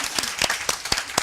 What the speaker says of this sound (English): why don't we applaud?